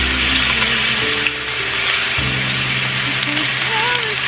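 Ribeye steaks hit a hot pan and sizzle loudly and steadily, a dense frying crackle with a brief thump as a steak is laid down, close up throughout.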